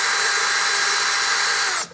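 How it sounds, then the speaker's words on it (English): A cordless drill whines loudly and continuously as its bit spins without a center punch mark, a steady high-pitched motor tone that cuts off abruptly near the end, with no talking. "when I try to drill,"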